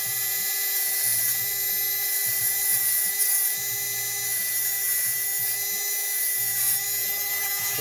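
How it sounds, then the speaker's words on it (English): A Dremel rotary tool whines continuously at high pitch as it flattens curtain wire, steady and close throughout, with a lower grinding rhythm pulsing underneath as the wire is worked. "Which I'll just do with a Dremel."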